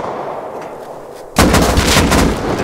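Gunfire in the video game Rust erupts suddenly after a quiet, muffled stretch, a loud, dense volley of close shots lasting over a second.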